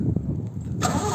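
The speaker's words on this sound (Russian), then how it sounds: "Вот, сейчас запустим мотор." A Toyota 5FG15 petrol forklift engine cranks over a low rumble, then catches with a sudden louder, brighter roar near the end, close by with no talk.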